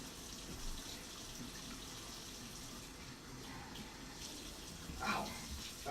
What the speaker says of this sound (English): I'm going to wipe my hands off and wash them